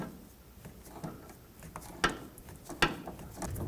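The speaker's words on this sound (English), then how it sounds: "Now with some pliers, I'm just going to go ahead and unthread this the rest of the way." Pliers turn an inner tie rod off a 2006-2011 Chevrolet HHR, giving quiet scraping and ratcheting metal clicks with two sharper snaps near the middle, close by and with no talk.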